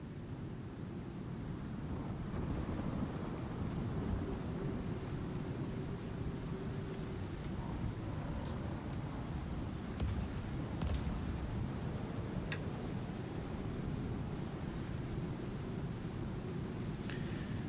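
A hail storm rages in the survival video game Icarus as a steady, dense roar of pelting hail and wind, with a few faint distant rumbles and clicks throughout.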